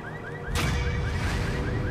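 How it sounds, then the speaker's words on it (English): A car alarm in Grand Theft Auto V sounds a repeating rising electronic whoop, steady and rhythmic, with a loud whoosh cutting in halfway through while the alarm keeps cycling underneath. "Whose car alarm is going off right now?"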